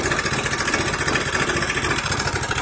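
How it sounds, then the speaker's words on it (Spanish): A Honda Beat 100 cc scooter engine runs steadily with a close, continuous buzzing drone, holding an even idle-like pitch throughout without talk. "es que me funciona también el motor"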